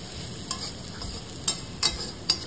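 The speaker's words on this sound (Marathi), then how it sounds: "आता शेवटा खोबरा घातला आणि खोबरा सुद्धा परतून घेतले।" Grated coconut sizzles softly in a pan over a low flame while being sautéed for a Malvani black pea usal, with a steady fry hiss broken by four sharp spoon-scraping stirs.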